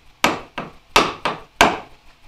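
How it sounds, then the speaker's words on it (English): Chisel work on a through mortise in a workbench, prying and knocking out waste wood: five sharp, loud woody strikes in an uneven rhythm, close up with nothing else heard. "You just pry your bit of waste out every time."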